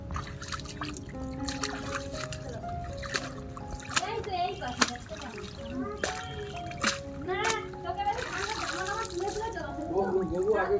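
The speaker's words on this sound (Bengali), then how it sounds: "শাকগুলি আমার তোলা হয়ে গেছে, এবার এগুলোকে ধুয়ে নিচ্ছি।" Freshly picked kulekhara greens washed by hand in water in a village kitchen, with repeated splashes and trickles that rise toward the end over steady background sound and voices.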